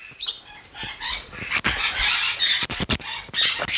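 Birds flutter and squawk inside a huge bird cage at a Jamaican villa, with close wing flapping and sharp calls filling the space in an irregular, busy stream.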